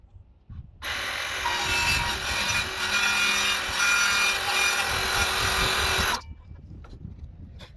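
A DeWalt track saw rips a very slight taper cut through wood on a jobsite, starting with a sharp whine and cutting steadily for about five seconds before spinning down, close and loud with no talking.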